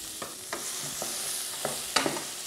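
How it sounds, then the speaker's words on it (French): Carrots and onions sweat with langoustine heads in a pan, a soft steady sizzle broken by several sharp scrapes and clicks of stirring, close and without voices. "Je vais laisser maintenant légèrement suer mes carottes et mes oignons avec mes têtes de langoustine."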